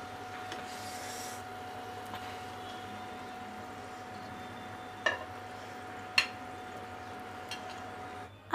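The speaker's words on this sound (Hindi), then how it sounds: "आप देख सकते हैं चिकन के पीस कितनी अच्छी तरह से फ्राई हो गए हैं" Chicken pieces for biryani fry in oil with a steady, low sizzle throughout, broken by a few sharp clinks of a utensil against the pan near the end.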